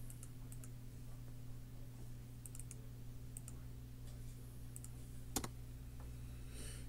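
Live typing on a computer keyboard: scattered light key clicks in small bursts over a steady low electrical hum, with one sharper louder click near the end and no voices.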